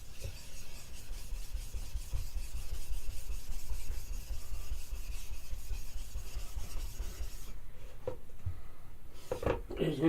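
Blade bevel rubbed back and forth on a wet Arkansas grey sharpening stone, a steady close scraping rasp that stops near the end, followed by a few clicks and handling sounds.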